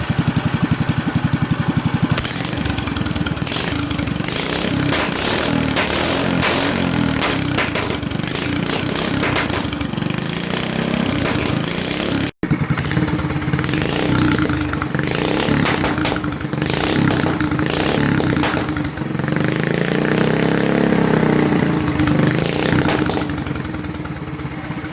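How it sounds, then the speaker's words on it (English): A gas go-kart engine runs steadily at a rough, clattering idle throughout, loud and close, with one very brief dropout midway. "let's put some more gas in it and fire it back up"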